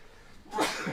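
A single, sudden sneeze bursts out after a moment of near quiet during a livestream commentary, close to the microphone and fairly loud.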